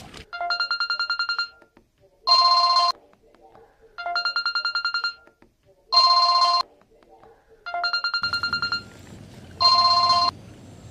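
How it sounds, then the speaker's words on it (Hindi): A ringtone rings repeatedly in regular bursts at home, loud and close, with a second ringing pattern alternating; toward the end a low rumble of background noise joins it, with no talk over the ringing. "तोर फोन है कब के टरर टरर बाजा थे"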